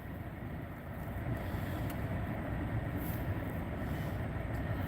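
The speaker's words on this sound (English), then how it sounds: "Oh God, the wind is really going." Strong wind blows on a cold, snowy day, a low, rumbling buffet that swells and rolls on continuously at a moderate level, with no talking.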